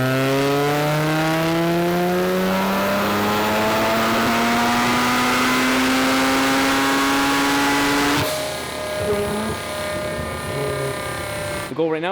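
A three-rotor rotary engine in a Corvette screams on a dyno in one loud, steadily rising pull, then drops off abruptly and settles into a rough, buzzy idle.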